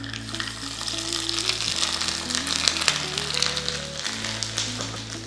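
Grated coconut frying in hot oil with popping mustard seeds, a tempering for Kerala parippu curry; a steady close sizzle with small crackles runs alone under a faint background tone.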